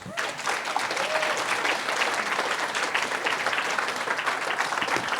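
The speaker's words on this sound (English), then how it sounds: "And so let's give them a round of applause." An audience applauds new members of a circle, a dense, even wash of clapping from a crowd that keeps going from start to finish.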